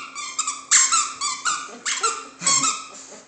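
A French Bulldog chomps a squeaky raccoon toy, producing a run of loud, close squeaks in irregular bursts, some quick doubles and longer squeals, with no talking.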